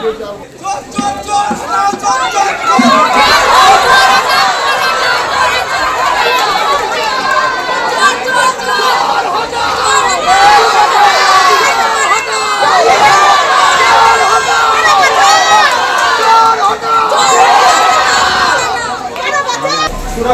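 An angry crowd at a local ward meeting chants and shouts 'thief' slogans at a council member, a loud, continuous mass of overlapping raised voices and rhythmic shouting throughout.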